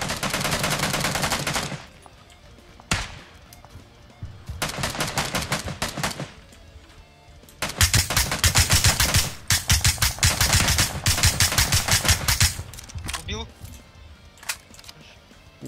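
Bursts of rapid automatic gunfire in PUBG alternate with a few single shots, loud and close, separated by brief pauses with a voice talking in between.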